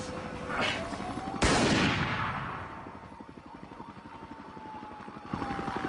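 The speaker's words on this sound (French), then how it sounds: "Banging, gunshots." Gunshots during the Columbine school shooting: a sharp loud blast followed by a rapid, steady train of shots under a continuous droning hum, with faint voices in the background.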